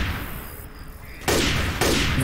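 Two loud, sharp shotgun blasts in Left 4 Dead 2, spaced about half a second apart, each a sudden booming hit following a quieter stretch of ambient game sound.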